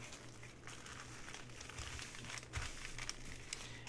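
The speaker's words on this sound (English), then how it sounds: "So I think I will fold it up one more time." Tissue paper being folded and crumpled by hand for a craft project, a soft continuous crinkling and rustling close to the microphone, steady and fairly quiet throughout.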